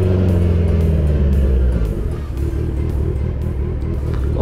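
Deep engine rumble from a Kawasaki Z900 motorcycle sounds up close, revving at first and then settling into a rough, pulsing idle.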